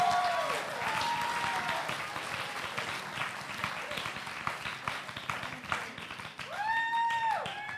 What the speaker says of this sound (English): Stop clapping, the clock is ticking.